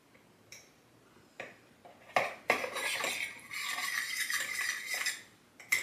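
A spoon stirs a bouillon cube into a pot of vegetable beef soup, giving a few light clinks and then a longer run of scraping and swirling against the pot, close by and with no talk.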